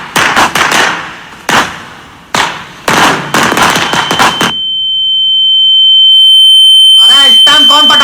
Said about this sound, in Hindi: इस टाइम कौन पटाखे फोड़ता है बे